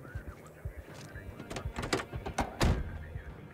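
Car door and glovebox opening in the video game Project Zomboid, heard as a quick run of close clicks, latches and hollow thunks, with one heavier knock near the end.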